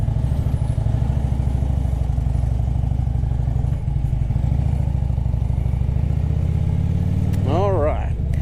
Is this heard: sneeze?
no